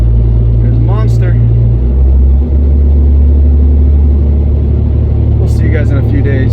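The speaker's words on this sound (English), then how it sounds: "Driving very carefully right now because we got a lot of money in rear ends back there." Truck carrying rear axles for a 1958 Impala project, engine droning low and steady from inside the cab with road rumble and a shift in pitch partway through, voices speaking over it.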